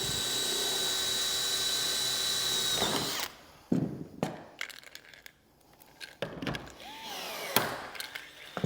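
Drill running for about three seconds, then several sharp metallic snaps of pop rivets being set into a metal bracket on a garden room base, with clicks and handling noise in between.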